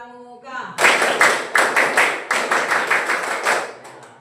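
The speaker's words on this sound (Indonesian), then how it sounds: "Satu kali tepuk pramuka" A group performs the scout-style tepuk pramuka clap in sharp unison, a patterned run of about a dozen loud nearby claps following a brief spoken call.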